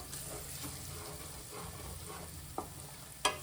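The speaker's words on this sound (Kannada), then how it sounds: "ಇದನ್ನು ನೀಟಾಗಿ ಮೀಡಿಯಮ್ ಲೈಕ್ ಲೋ ಫ್ಲೇಮಲ್ಲಿ ಈ ಥರ ಫ್ರೈ ಮಾಡ್ಕೋಬೇಕು" Egg manchurian masala fries in a pan over a medium-low flame, giving a steady close sizzle with two sharp spoon scrapes near the end.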